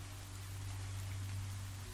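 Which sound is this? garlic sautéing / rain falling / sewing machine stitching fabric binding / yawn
rain falling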